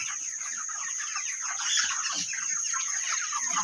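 A dense, busy chatter of many 33-day-old chickens clucking at once, steady throughout with no voices.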